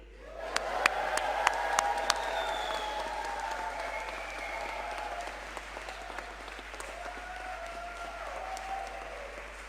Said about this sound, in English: let's just do a great big cheer and see how much noise we can really make